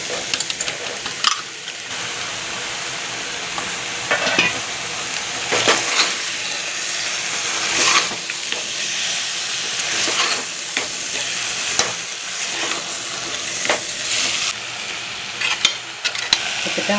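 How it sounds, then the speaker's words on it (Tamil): Marinated chicken added to a hot pan of fried masala for a home-style chicken gravy, sizzling and frying steadily while a spoon stirs and scrapes in irregular knocks throughout. "இப்போ இதில் வந்து நம்ம ஊற வச்சுருக்க சிக்கனை சேர்த்துக்கலாம்"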